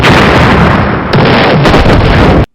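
Loud, dense booming blasts and crackling bursts from a Michael Bay film, 13 Hours, pile up without pause for a couple of seconds, then cut off abruptly.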